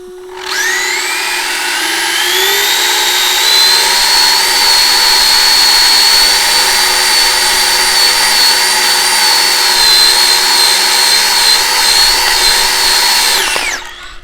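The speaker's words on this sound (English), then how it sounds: "Alrighty, here we go for a burnout." A Traxxas Drag Slash RC car does a burnout, its motor spooling up into a loud, sustained high-pitched whine that holds steady for over ten seconds before cutting off abruptly.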